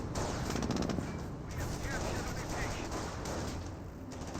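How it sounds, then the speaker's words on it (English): Panzer Grenadiers firing on a Jeep in the World War II strategy game Company of Heroes, a dense chatter of rifle and machine-gun fire over a battlefield din, with a commentator talking over the shooting. "Jeep receiving a bit of fire there from these Panzer Grenadiers"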